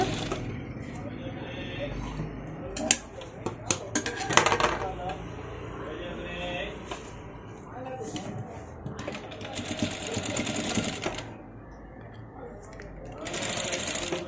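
A sewing machine stitches dori onto a blouse in bursts of rapid mechanical clatter, stopping and restarting, while someone talks over it nearby.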